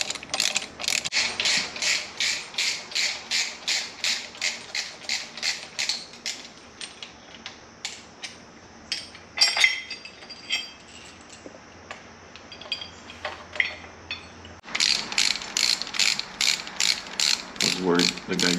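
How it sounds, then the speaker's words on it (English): A ratchet clicks in quick, even runs while a tap or die cuts new threads on an MG Midget bolt; steady bursts of sharp metallic ticks, close, pausing midway for scattered clinks before resuming. "Cutting new threads"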